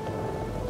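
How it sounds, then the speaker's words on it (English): Rainstorm aboard a ship's deck in the video game Pillars of Eternity II: Deadfire, a brief burst of steady, dense rain hiss with a low rumble beneath, fairly quiet and with no talk. "The rain drums against the deck."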